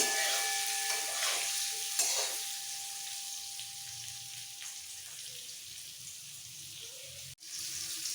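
Cabbage and potato are stirred in hot oil, a soft, fairly quiet sizzle close by with occasional scraping of the spoon and a brief clatter near the end.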